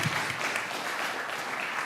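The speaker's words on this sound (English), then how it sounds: "Let's give him a round of applause for that." A summit audience breaks into dense, even applause, many hands clapping together in a sustained wash that stays steady and fairly loud for the whole moment.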